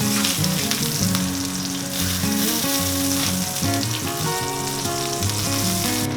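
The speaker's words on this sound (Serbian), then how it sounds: "dodajte novu turu mesa." Pork chops frying in a pan, a steady, loud sizzle with crackling spatter running continuously throughout, close up with no talking.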